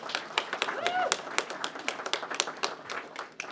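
A small audience claps in a steady patter of separate hand claps for Senator Ghazala Hashmi at a Medicaid press conference, moderately close, with faint voices underneath.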